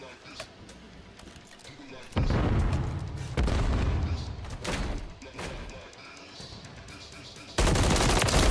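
Video game gunfire from a Call of Duty League championship match, loud sustained bursts of automatic fire in several long stretches, with a voice talking over parts of it.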